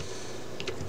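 Short burst of computer keyboard typing as a website address is entered, a few quick soft key taps close by with no talking.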